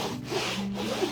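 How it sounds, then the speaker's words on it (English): Sandpaper is rubbed across the surface of a hat box in a brief, continuous scratchy rasp, close and fairly even, with no talking. "With your sandpaper, I go one direction"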